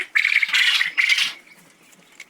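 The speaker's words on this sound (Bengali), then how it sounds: "আর এত পরিমাণ আমাদের ছেলে পাখিগুলো ডাকাডাকি করতেছে" Several loud, harsh calls from male quails in quick succession, close by at evening, then fading to quiet rustling.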